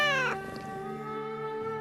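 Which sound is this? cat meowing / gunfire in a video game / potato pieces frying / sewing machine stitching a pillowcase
cat meowing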